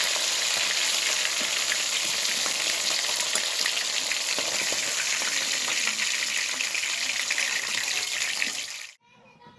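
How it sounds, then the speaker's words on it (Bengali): Loud, continuous sizzling and crackling of rohu fish heads frying in hot oil, steady for several seconds before cutting off abruptly. "মাছের মাথাগুলো লাল লাল করে ভাজা হয়ে গেছে"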